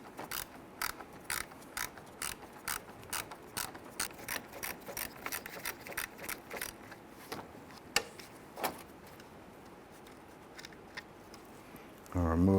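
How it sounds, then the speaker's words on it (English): A 1/4 inch ratchet with a shallow socket turns a 7mm screw on a 1999-2004 Jeep Grand Cherokee headlight mounting panel, giving a long run of quick, close metallic clicks in steady bursts, pausing briefly near the end. "We're using our shallow socket and 1/4" ratchet."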